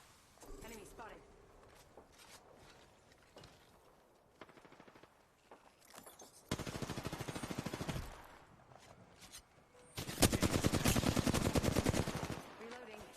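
Gunfire in the video game Apex Legends comes in scattered single shots and short bursts, then two long, loud rapid automatic volleys, with a player talking at times between them.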